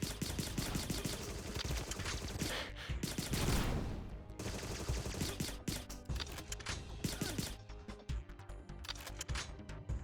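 Rapid bursts of video game gunfire from a multiplayer spy shooter, loud, dense and continuous, with overlapping shots and sharp mechanical clicks, thinning into separate staccato cracks toward the end.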